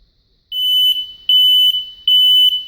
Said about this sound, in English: this is one of the loud alarms that does not activate the relay system.